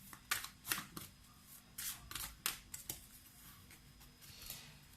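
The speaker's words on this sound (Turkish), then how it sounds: "Buradan da bir kart seçelim" Tarot cards are handled and drawn from a deck, producing soft close riffles, flicks and papery snaps in uneven bursts over a quiet background.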